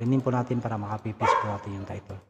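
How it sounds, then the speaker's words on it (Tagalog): Dogs bark and yip in short bursts close by while a person keeps talking over them. "May mga aso po dito. Pasensya na po."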